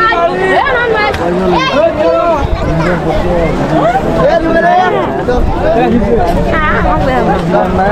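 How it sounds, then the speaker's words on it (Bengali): A crowd gathered on both banks of a river during a search for a drowned child makes loud, close, overlapping chatter and calls, with several voices talking at once throughout. "এই যে বন্ধুরা দেখুন কত লোক জড়ো হয়েছে,"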